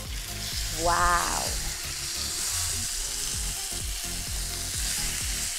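A T-bone steak frying in butter sizzles steadily in a pan, a broad continuous hiss throughout with a brief exclaimed voice near the start.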